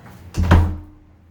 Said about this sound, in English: So we're gonna close this door